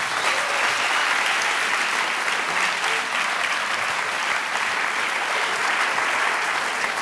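Warm, loud applause from a conference audience welcoming a heat pump researcher to the stage, dense and sustained at an even level throughout.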